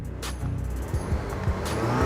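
Alfa Romeo Stelvio Veloce engine started and given a brief rev, a close low rumble rising and falling in short repeated surges.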